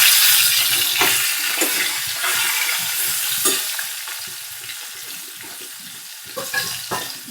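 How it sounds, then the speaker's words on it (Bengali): Turmeric- and salt-rubbed rohu fish pieces dropped into hot oil sizzle loudly and steadily up close, with a few sharper crackles and spatters over the constant frying hiss. "তেল গরম হয়ে গেছে, এবারে রুই মাছের পিসগুলো আমি ছেড়ে দিচ্ছি।"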